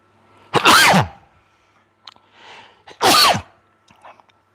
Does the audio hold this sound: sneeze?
yes